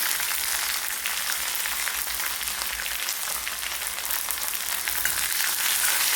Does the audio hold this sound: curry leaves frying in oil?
yes